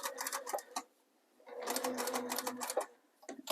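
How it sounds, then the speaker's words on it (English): A sewing machine stitches over an earlier seam on a zipper pouch in two loud whirring bursts, the second longer, with a brief quiet pause between them and a short restart at the end. "I'm going to just stitch kind of over my previous stitching."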